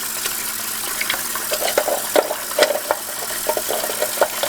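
Tap water running into a kitchen sink with eggs placed inside, a steady close splashing stream with small irregular gurgles and bubbles throughout.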